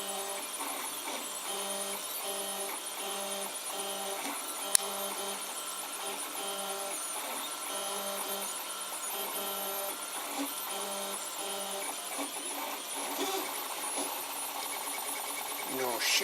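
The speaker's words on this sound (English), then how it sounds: "Seems to be printing well." A 3D printer in the middle of a print job, its stepper motors whirring and chirping in steady, shifting tones over a constant cooling-fan hum, moderately quiet and continuous, with a brief click partway through.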